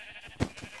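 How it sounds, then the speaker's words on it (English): A single sheep bleat from a struck sheep in the video game SkyWars, one short loud cry in the middle, followed by a fainter second bleat over a quiet game background. "Why do people hit the sheep?"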